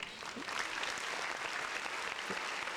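A round of applause rolls steadily from a distant-sounding group, a soft continuous patter of many hands clapping with no break.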